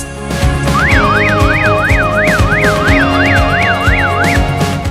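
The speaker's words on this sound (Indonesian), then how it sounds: "sehingga sirine akan menyala dan berbunyi dengan suara yang keras" A loud electronic siren warbles rapidly up and down in a steady repeating pattern, close and continuous, with low background rumble.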